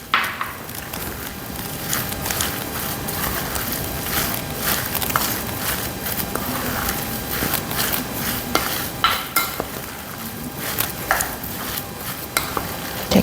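Okara and vegetable pancake batter seasoned with salt and sesame seeds is stirred in a bowl, producing a steady wet, sticky scraping and slapping with small clinks throughout, close and continuous with no talking.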